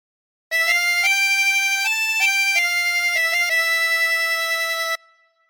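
Chromatic harmonica plays a short phrase of Billy Joel's Piano Man, a clear sequence of sustained single notes stepping up and down, close and steady with no talking.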